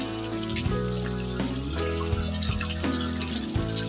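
Water pouring over a sluice weir on a tank, a continuous dense rush with spattering, steady and fairly close with no talk.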